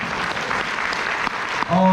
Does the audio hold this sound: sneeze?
no